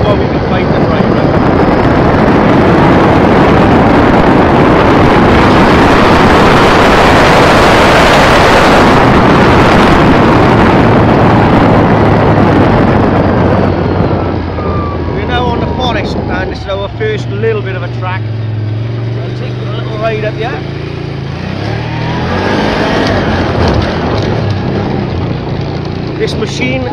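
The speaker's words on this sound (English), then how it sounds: "I'm in two-wheel drive eye at the moment, as you can hear the grunt of the engine" A Can-Am Outlander 800 ATV engine grunts in two-wheel drive on a rough scenic trail, a loud, steady roar with heavy wind buffeting, dropping to a lower throbbing drone partway through as the rider speaks over it.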